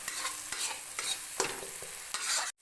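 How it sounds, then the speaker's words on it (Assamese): Mustard paste stir-fried in a pan for a fish curry, a close steady sizzle broken by regular spatula scrapes roughly every half second, ending abruptly. "এইখিনি মই কেঁচা ভাৱটো যোৱালৈ ভাজি থাকিম"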